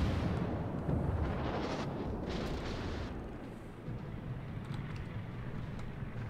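Warship guns firing armor-piercing shells at a broadside battleship in World of Warships, a dense rumbling roar of heavy gunfire and booms that slowly fades.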